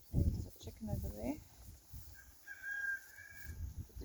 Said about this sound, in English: The rooster crowing in the background.